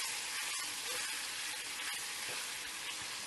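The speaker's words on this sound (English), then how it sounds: "since the beef chunks are on the stove cooking right now" Beef chunks for a slow-cooked stew frying on the stove, a steady close sizzle with crackles and pops running throughout, no talking.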